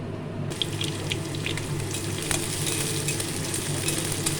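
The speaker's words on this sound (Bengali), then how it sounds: "রসুন শুকনো লঙ্কা তেলে দিয়ে দিলাম" Crushed garlic and dried red chilies sizzle in hot mustard oil, making a steady, close crackling hiss that starts abruptly and continues evenly with no voices.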